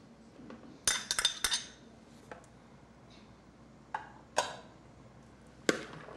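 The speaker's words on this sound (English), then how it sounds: "And stir them around a little bit so it's mixed up a little." Chopped green onion is stirred in a pot with a utensil: a few sharp clinks and scrapes in a quick cluster, then scattered single knocks over a quiet background, with no talk.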